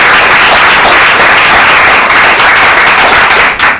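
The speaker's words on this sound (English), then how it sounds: "Let's have another round of applause." Dense, steady applause from an audience at the close of a talk at an institute event, loud and sustained without speech, thinning slightly at the very end.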